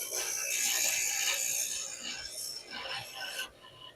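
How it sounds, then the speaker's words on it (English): Continuous abrasive grinding of the top edge of a metal part on a drill press modification, a loud, steady, close hiss that dips and wavers near the end before cutting off. "just grinding the top a little bit"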